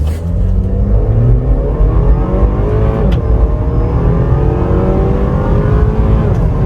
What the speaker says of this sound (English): So I'm going to get the revs up a little bit.